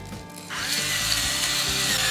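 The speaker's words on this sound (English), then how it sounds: "I love these salt grinders and pepper grinders." Salt and pepper grinders crank over seasoned grilled vegetables, a steady close gritty grinding rasp that starts after a brief quiet moment and runs on continuously.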